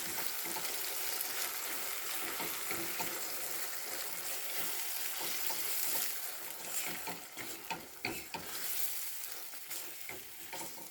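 Steady, loud sizzling of sour cream frying in a pan, with occasional stirring scrapes and clatters, continuous throughout with no talking.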